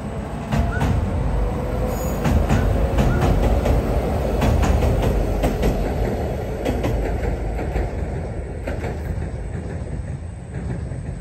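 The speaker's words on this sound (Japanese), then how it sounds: "電車来た" A train rolls steadily past nearby, its loud rumble broken by sharp rhythmic clicks of wheels over rail joints, fading slightly toward the end.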